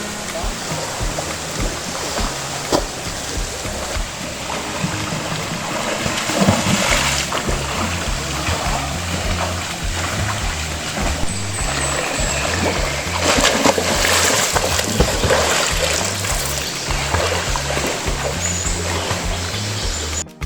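Loud, continuous splashing from people bathing in a clear blue river lagoon at a spring, with voices in the background and the steady rush of flowing water throughout.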